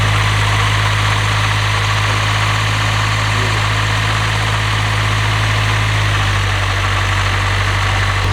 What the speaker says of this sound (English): So we'll start it up one more time because we got to hear this thing like idle, idle.